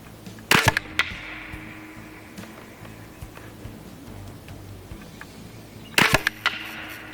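Two sharp air-rifle shots from a Hatsan Invader .25 semi-auto firing pellets, the first near 0.5 s and the second near 6 s, each a loud crack with brief follow-up rattle over quiet background.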